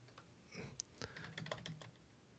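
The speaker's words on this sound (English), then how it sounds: "Just typing." Typing on a computer keyboard, with faint, quick, irregular key clicks in short bursts against a quiet room hum and no talking.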